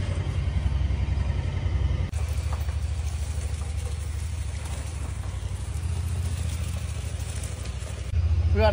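Vehicle engine rumbling steadily up close while driving off to uncoil a long, heavy 1,000-foot power cable, a constant low drone with a brief shift in tone partway through and no talking.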